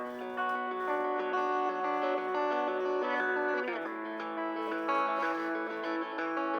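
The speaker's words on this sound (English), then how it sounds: "during this intro part, we just kind of have a filtered finger electric guitar" Fingerstyle electric guitar, heavily filtered, plays an intro with sustained plucked chords, a muted, effects-laden tone and soft ringing tails, with one chord change midway and no voices.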